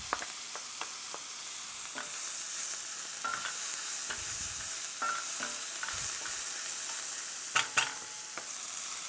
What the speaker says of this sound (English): We'll start off by just adding a little grape seed oil, some butter. And we're going to throw in our onions.